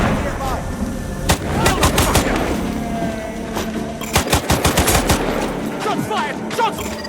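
Rapid gunfire bursts crack out in the video game Sniper Ghost Warrior 2, scattered single shots and automatic volleys rattling over several seconds amid faint background voices.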